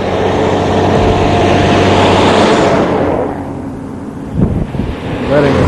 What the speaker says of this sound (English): Letting the traffic through here